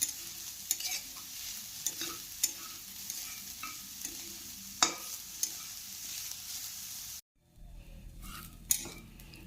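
Grated coconut fries in a pan under a soft constant sizzle while a utensil stirs and scrapes, giving repeated clinks and taps; the sizzle drops out abruptly near the end, then faint clatter resumes.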